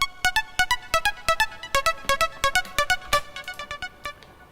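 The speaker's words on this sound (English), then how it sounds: "So I have the Ghost Act Trance lead Navarro" Ghost Act trance lead synth preset playing a fast, rhythmic run of short, bright plucked notes with sharp attacks, staying loud and close before thinning out toward the end, with no voices over it.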